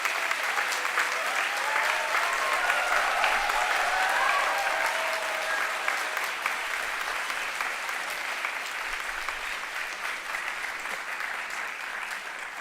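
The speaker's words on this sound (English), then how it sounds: "Parents can now clap for the success of their wards." Parents applauding at a university convocation ceremony in a large hall, a long sustained wash of clapping from a big crowd, steady and fairly distant, tapering slightly toward the end.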